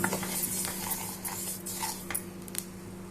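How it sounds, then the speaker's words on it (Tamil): Lentils and horse gram are dry roasted together in a pan and stirred, giving soft, irregular scraping and rattling of grains against metal over a faint steady hum. "பயிறு கொள்ளு ரெண்டுத்தையும் போட்டு ஒன்றாவே வறுத்துக்கோங்க"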